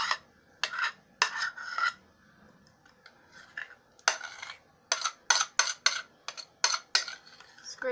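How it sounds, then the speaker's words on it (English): Spatula or spoon scraping pumpkin spice cheesecake filling from a bowl, a series of quick close scrapes and clinks in irregular bursts, fairly quiet with short pauses between strokes. "Scrape out all that you can,"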